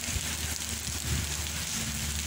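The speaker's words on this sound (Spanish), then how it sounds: "un video simplemente para que vean la lluvia" A heavy rain shower pours down in Caibarién, Cuba, as a dense, steady roar of falling water. It is loud and unbroken throughout, with no voices.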